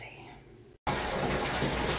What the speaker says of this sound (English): We're loading up the tub with some hot water.